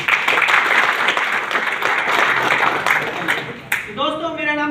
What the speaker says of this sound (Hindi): पुराने साथी तो सभी लोगों के लिए जोरदार तालियां